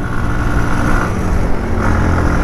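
A motorbike held at full throttle up steep hill roads around Thanchi and Tamatungi, producing a loud, steady, close engine roar that drones continuously with no pauses and no talk.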